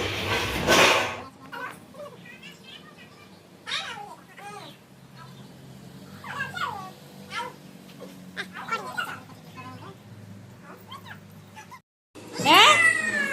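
A cat meows repeatedly across the scene with rising and falling calls, and a louder meow near the end, while people talk and call out around it.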